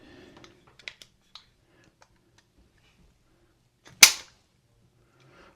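Colt Delta Elite 1911 10mm trigger pulled against a trigger pull gauge: a few faint small clicks, then one sharp, loud, close metallic snap of the hammer falling, followed by quiet.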